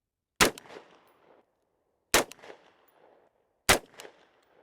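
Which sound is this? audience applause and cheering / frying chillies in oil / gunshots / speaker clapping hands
gunshots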